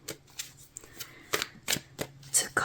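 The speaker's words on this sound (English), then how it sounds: "As I'm shuffling out your cards that are coming out very quickly" Tarot cards are shuffled close by in quick, crisp bursts of riffling and slapping, several sharp flurries in a row in a quiet room.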